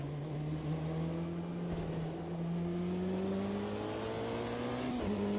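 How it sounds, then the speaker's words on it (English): A BMW hypercar engine in the Automobilista 2 racing game holds a steady, high, droning note, its pitch creeping slowly upward before a quick gear change near the end, loud and continuous with no voices. "Right now we're driving the BMW hypercar"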